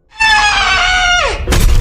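A woman in the horror film Obsession lets out a sharp, loud, sustained scream close up, which falls off abruptly and is followed by a harsh crashing burst.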